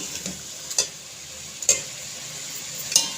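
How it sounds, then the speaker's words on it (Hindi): Chicken fries in a karahi under a steady low sizzle, broken by three sharp utensil clinks against the metal pan spaced about a second apart. "हमारा चिकन बहुत बेहतरीन साफ फ्राई हो चुका है।"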